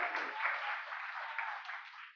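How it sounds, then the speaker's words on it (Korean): Applause from a church congregation welcoming a visiting student, a steady wash of many hands clapping at moderate distance that carries on without a break. "박수로 환영해 주시기 바랍니다"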